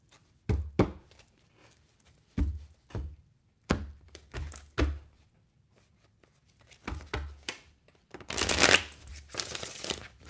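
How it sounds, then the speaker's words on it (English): A deck of tarot-style playing cards is shuffled by hand at a tarot reading, with a series of close, soft riffling and tapping bursts separated by pauses, ending in a longer, denser flurry of shuffling. "I just want to make sure the cards are shuffled good."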